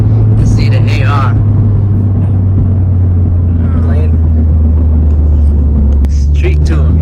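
A Honda Civic Si engine is pulled hard in third gear on a street run, a loud steady drone and rumble from inside the car, with excited voices whooping over it.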